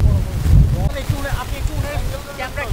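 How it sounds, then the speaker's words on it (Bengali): Strong wind buffets the microphone with a low rumble over big waves during a flood off the Noakhali coast, Bangladesh, with the wash of water and some distant voices and trawler engine-like tones throughout. "খুব বাতাস, অনেক গতিতে বাতাস, তারপর বড় বড় ঢেউ"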